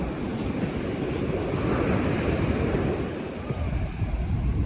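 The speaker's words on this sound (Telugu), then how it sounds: "ఇదమ్మా బీచ్." Waves wash onto a beach in a continuous low roar, with wind buffeting the microphone and no speech heard.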